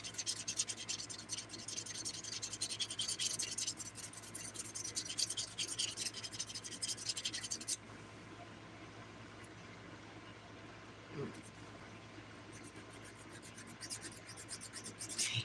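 A nail file rasps back and forth across a fingernail tip in steady, close scratching strokes for about eight seconds, then stops, leaving a quiet room with a faint hum.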